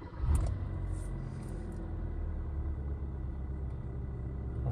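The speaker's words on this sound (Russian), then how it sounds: "Автомобиль заводится отлично, без всяких либо ошибок." 2017 Hyundai Accent engine running just after starting, a low steady rumble heard close with no talking.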